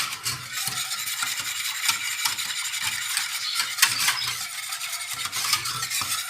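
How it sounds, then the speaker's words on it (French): A utensil stirs egg yolks into an ice cream mixture in a bowl, giving steady close scraping and clinking strokes at a moderate level, with no talking. "je mélange bien."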